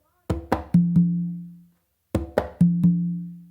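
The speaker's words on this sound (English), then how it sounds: "what you're going to do is two opens with your dominant hand on the tumba" A conga plays a short pattern of four hits, played twice, the last two deeper open tones on the tumba ringing out.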